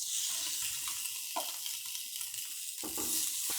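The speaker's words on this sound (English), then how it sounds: "I'm just going to cook some chicken breasts that I marinated with a little bit of olive oil, some garlic, salt, and pepper." Marinated chicken breasts, coated in olive oil, garlic, salt and pepper, sear in a cast iron grill pan with a steady, close broadband sizzle, broken by a couple of brief clatters as the pieces shift.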